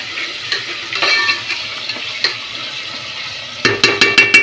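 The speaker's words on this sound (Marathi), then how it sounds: "आता ही अद्रक लसूण वाटलेली ती टाकू आपण त्याच्यामध्ये हा ही चांगली भाजू आपण" Ginger garlic paste frying in oil for chicken biryani, a steady close sizzle broken by scraping stirs, ending in a quick run of sharp metal taps of a spoon on the pan.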